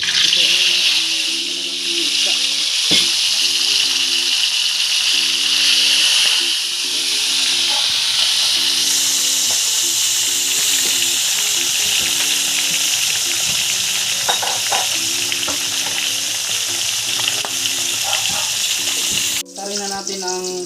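Fish frying in hot oil gives a steady, loud sizzle and hiss throughout, with stirring and scraping in the pan and a brief jolt near the end; no one talks.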